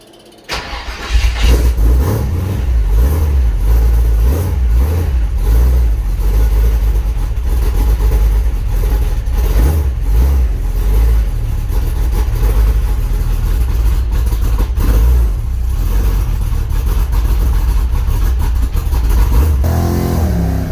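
A Holden HQ engine cranks and catches, then settles into a loud, steady, rumbling idle right up close, with a deep throb that carries on for the rest of the stretch.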